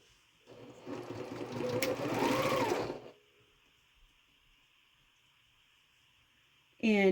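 Sewing machine stitching quilt star pieces together in a steady mechanical whir for about two and a half seconds, then stopping, with quiet room tone before a brief sound at the very end.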